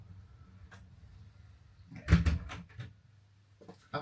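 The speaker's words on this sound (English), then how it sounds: "I'm just going to go shut the door." A door in a home is pushed shut with a single solid thud and brief rattle after some quiet shuffling, close by and loud against a low background.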